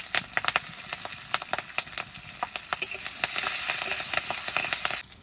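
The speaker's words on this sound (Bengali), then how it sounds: "এই দেখুন কত সুন্দর করে ভেজে নিয়েছি লঙ্কাগুলো" Green chillies fry in hot oil for taro greens cooked with hilsa fish head, crackling and popping close by in sharp irregular bursts over a continuous sizzle.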